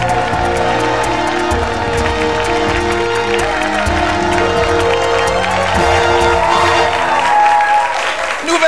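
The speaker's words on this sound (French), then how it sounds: "Bravo, Claude, on l'applaudit." A television studio audience claps and cheers loudly and continuously, the applause layered over music playing throughout.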